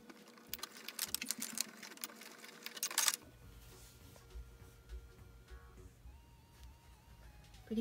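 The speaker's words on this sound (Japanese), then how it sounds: "ノーズワイヤーを中央に合わせてこの横に少し余裕を持たせてステッチをかけます。" A sewing machine stitches a nose wire into a cloth face mask, giving a fast, rapid rattling run of needle strokes for about three seconds before it stops, followed by quieter low handling and rustling noises.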